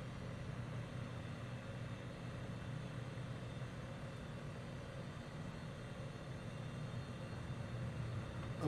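A light aircraft drones steadily through a scenic flight over Northern Ontario, Canada, in Microsoft Flight Simulator, the engine and airflow making a continuous, even hum throughout with no talking.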